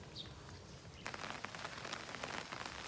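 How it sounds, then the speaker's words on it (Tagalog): Light drizzle starts again on a pig farm, a soft, dense patter of raindrops on surfaces that suddenly becomes more distinct after a second of quiet ambient hiss and continues steadily. "nag-umpisa na naman po ang pag-ambon"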